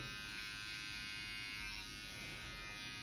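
Cheap Walmart electric hair clippers buzz steadily while cutting hair during a haircut, a continuous close motor drone with no talk.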